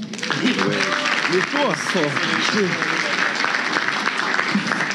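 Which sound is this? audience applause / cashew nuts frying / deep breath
audience applause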